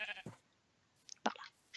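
Sheep in a video game bleat in short, separate calls, three or four quick cries with quiet gaps between them, faint and close, no speech.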